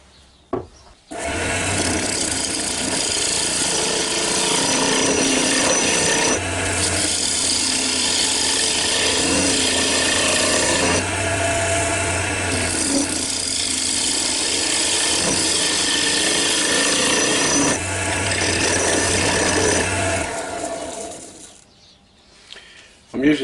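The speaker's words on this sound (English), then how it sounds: "I'm going to face this off now and get a tenon on there." Woodturning lathe running as a square-tip carbide cutter faces off a bowl blank and cuts a tenon, a loud continuous rasping scrape over the motor hum, easing in pitch at a few points before the lathe winds down.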